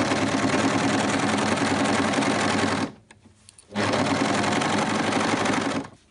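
An overlock machine with its knife trimming fabric stitches a sweatshirt sleeve seam, a loud rapid whirring hum in two long runs split by a brief pause, close and without talk.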